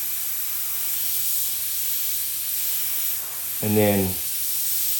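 Steady airbrush hiss sprays paint onto a smoke skull artwork, shading the eye sockets; the close, even spray runs continuously while someone briefly speaks over it near the end.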